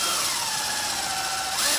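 A power drill runs continuously in a close, steady, high whirring whine for under two seconds, then cuts off abruptly at the end, with no talking.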